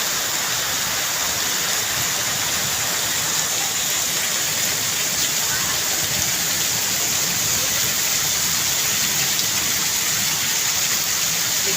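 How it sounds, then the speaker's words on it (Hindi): Heavy rain pours steadily and loudly, a dense unbroken hiss of water with no voices. "बहुत ही तेज़ बारिश"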